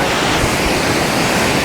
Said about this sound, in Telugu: చూడరు గాయస్ వాటర్ ఫాల్ ఎంత ఫ్లో ఉందో